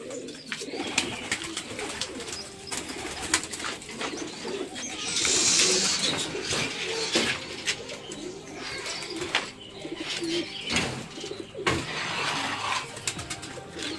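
Pigeons coo repeatedly in soft, low rolling calls, mixed with scattered rustles and clicks nearby and a brief burst of wing flapping, close and moderately quiet.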